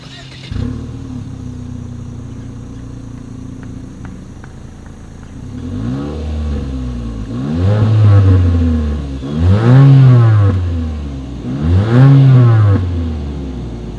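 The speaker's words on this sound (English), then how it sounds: "As always, here is that exhaust clip" A 2020 Mitsubishi Eclipse Cross with a single exhaust, idling quietly and then revved three times in quick succession, each blip rising sharply and falling back, close and loud.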